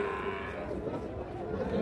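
Cattle, including Sahiwal bull calves, low at a busy livestock market near a border area, their moos rising over steady crowd murmur and nearby chatter.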